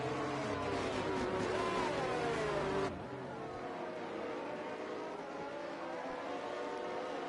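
Race cars circulating behind an Aston Martin safety car during a race broadcast: an engine note holds steady, then cuts abruptly to a quieter, thinner engine drone that continues to the end.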